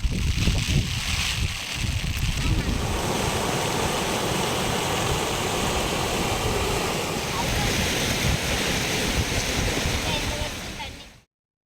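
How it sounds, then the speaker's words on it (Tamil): Floodwater roaring down the overflowing Arani Kamandala Naganadhi river after heavy cyclone rain, a loud, dense, unbroken rush with wind buffeting the microphone, steady for about eleven seconds before cutting off. "ஆரணி கமண்டல நாகநதி ஆற்றில் வெள்ளப்பெருக்கு ஏற்பட்டு தண்ணீர் ஆர்ப்பரித்து செல்லும் காட்சியை பார்க்கலாம்"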